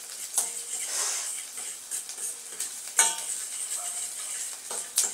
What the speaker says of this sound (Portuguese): dá uma dourada aqui na cebola.